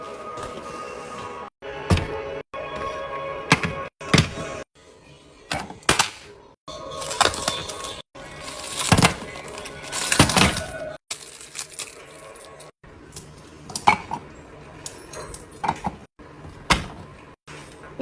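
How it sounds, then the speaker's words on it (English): Cookies crushed for a peanut butter pie crust, likely in a Ninja blender, producing bursts of cracking, crunching and rattling separated by short pauses, fairly close, with brief talk at times. "So what I'm going to do is crush these up and make a pie."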